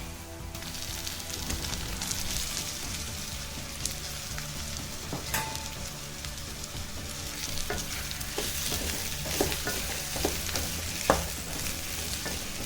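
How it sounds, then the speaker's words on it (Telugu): Potato pieces fry in a pan with garlic paste, a steady close sizzle broken by scraping and clinking as a spoon stirs them through; no speech. "వెల్లుల్లి పేస్ట్ వేసాం కదండి ఇప్పుడు బంగాళదుంప ముక్కలు వేసుకుందాం"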